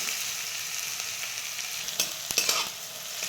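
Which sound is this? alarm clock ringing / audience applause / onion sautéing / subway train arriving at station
onion sautéing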